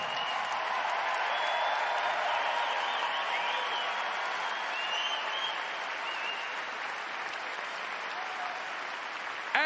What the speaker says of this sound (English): Please, a massive round of applause for a mighty legend.